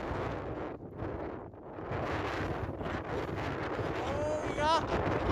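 Force 7 wind buffets the microphone outdoors at a rocket launch, loud gusting roar that dips briefly then surges again, with voices speaking over it.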